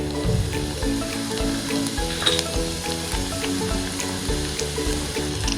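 Crushed garlic and curry leaves sizzling in hot oil for thuthuvalai rasam, a loud, close, continuous frying crackle with faint scraping from stirring and no talk.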